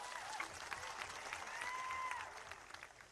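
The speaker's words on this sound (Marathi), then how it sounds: "त्यांच्यासाठी जोरदार टाळ्या वाजवा।" Crowd applause at a political rally in Maharashtra, greeting local leaders on stage: a steady patter of many hands clapping, fairly distant and soft, lasting about three seconds before tapering off.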